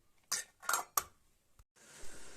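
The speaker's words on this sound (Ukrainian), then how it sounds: "поставили банки в каструлю з водою" Three distinct clinks of glass jars of canned peas set down against a metal pot of water in quick succession, followed by a soft thud and a low rushing sound.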